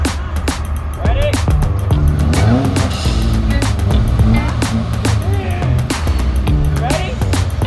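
Hyundai Avante being driven with gentle granny-shift gear changes, engine droning steadily up close with rising and falling revs, while people talk over it.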